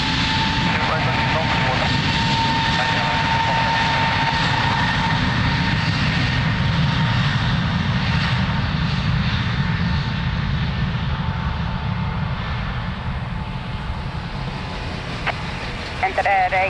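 A jet airliner takes off from runway 02 at Lisbon Airport, its engines a loud, steady roar that holds for the whole stretch, with radio chatter from the tower heard over it.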